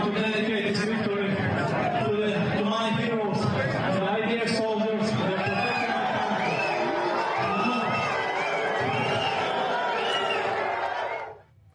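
A large audience jeers and shouts in a sustained roar of overlapping voices and whistles for about eleven seconds, with a speaker's amplified voice partly audible through the din before it cuts off abruptly.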